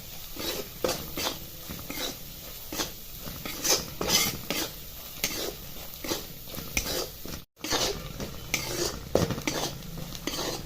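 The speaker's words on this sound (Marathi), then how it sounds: "हळद धना मिरची मसाला आणि गरम मसाला आणि हे पूर्ण असं परतून घ्यायचं" Turmeric, coriander, chilli and garam masala powders stirred in a pan for a green pea curry, with steady scraping and clinking of a spoon against metal cookware and a soft sizzle, close and continuous.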